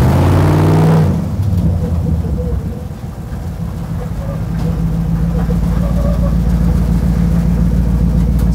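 A loud Dodge Charger engine revs hard from an idle, the deep roar swelling, dipping and then building again into a sustained, close, throaty drone.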